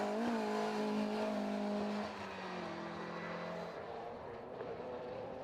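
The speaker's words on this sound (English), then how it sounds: "the understeering Mini of Stuart Bowes comes through in second place" A Mini rallycross car runs over the loose section of the circuit at a race meeting, its engine droning loudly and steadily, the note dropping slightly as it passes, with no talk.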